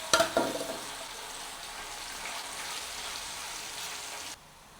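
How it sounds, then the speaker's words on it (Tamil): Chicken pieces frying in hot oil in a pan give a steady close crackling sizzle, with a few louder pops and stirring clatter at the start, continuous until it cuts off abruptly near the end. "இப்போ பாருங்க சிக்கன் நல்லா பொரிஞ்சிடுது"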